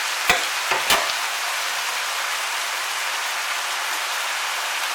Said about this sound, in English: So just brown it for a couple of minutes, you don't cook it through